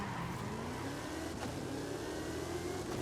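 A 1,500-horsepower Deora II pickup truck with surfboards on board races along a long straight in Forza Horizon 5. Its engine roars steadily and climbs gradually in pitch as it accelerates, without talk.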